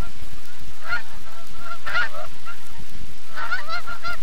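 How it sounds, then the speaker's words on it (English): Snow geese honk repeatedly in a nesting area on Arctic tundra, several loud calls in bursts around the middle and a quicker run near the end, over steady background noise. "The snow goose has come back to nest."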